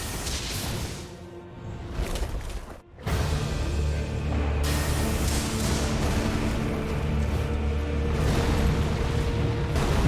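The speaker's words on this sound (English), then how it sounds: "Explosion? Yeah." Explosion in the video game Elden Ring during a boss fight with Maliketh, the Black Blade: a sudden whooshing blast with a deep rumbling boom that swells after a brief dip and lingers loudly.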